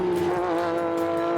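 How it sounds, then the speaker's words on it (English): A race car engine at Mallala Raceway near Adelaide, a loud sustained high-revving tone with a slight pitch wobble, heard close and steady for a brief moment with no talking. "the place is alive with the sound of race cars"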